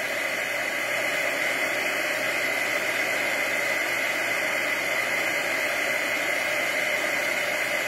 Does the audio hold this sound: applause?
no